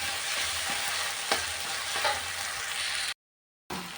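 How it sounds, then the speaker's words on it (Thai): Chilies being stir-fried in a pan for a catfish dish, with a steady close sizzle and occasional spatula scrapes, briefly cut to silence before frying resumes. "ก็ผัดพริกให้หอม นะคะ"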